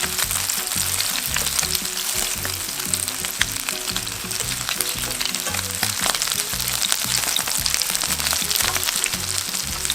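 Shrimp skewer jeon pan-fries in oil until golden, a dense, continuous crackling sizzle with popping bursts, close and loud, no voices.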